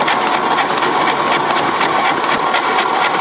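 The engine of an abandoned Ford F250 truck runs for the first time in 26 years, a loud, close, steady rumble with a regular pulsing rhythm and no voices over it.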